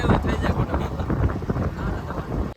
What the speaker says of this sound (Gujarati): પણ આ પવન બહુ આવતો લાગે